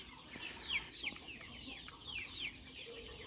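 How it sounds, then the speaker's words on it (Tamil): Native country chickens on a farm cluck softly and intermittently, with short bursts rising over a steady outdoor background. "நம்ம கோழியெல்லாம் ரெஸ்ட் எடுத்துகிட்ருக்கு"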